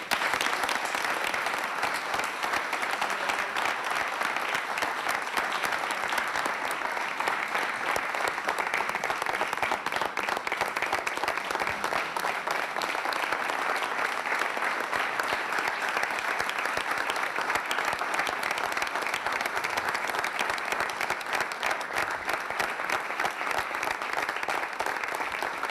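Sustained applause from a studio audience at a regional Veneto news broadcast, a dense, steady wash of many hands clapping for the whole stretch without a break.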